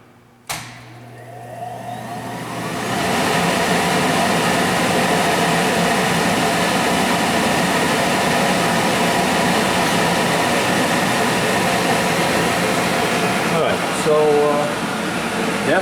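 A Kellenberger 600U universal cylindrical grinder spinning: after a sharp start, a loud, steady, broadband mechanical whir swells up and holds evenly, dipping slightly near the end.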